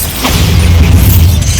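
A loud, booming blast from the Bombarda spell in Hogwarts Legacy, a single heavy explosion that swells and rumbles on through the moment.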